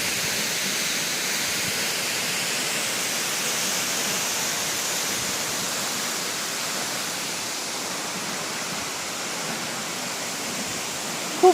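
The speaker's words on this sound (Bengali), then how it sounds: "এই যে এইখানটা দেখছো জলটা পড়ছে" Kolakham waterfall pours in a steady, even rushing roar that holds unchanged throughout, with no other sounds rising above it.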